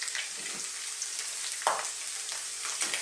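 Onion sautéing in a pan gives a soft, steady sizzle with a couple of brief stirring scrapes, close and fairly quiet, with no talking.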